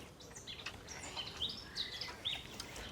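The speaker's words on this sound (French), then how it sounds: "À part les oiseaux, on n'entend qu'un bruit ici, Michel." Scattered high bird chirps and tweets over a steady, soft outdoor background in a marsh near Bourges, France, several calls overlapping at a moderate distance.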